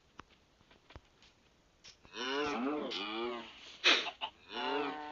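Video game cows mooing loudly and close, with several drawn-out moos in quick succession after a few soft clicks.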